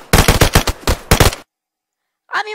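Loud, close bursts of rapid gunfire in the survival shooter DayZ, about a dozen sharp shots in quick irregular succession, then sudden silence before a brief voice at the end.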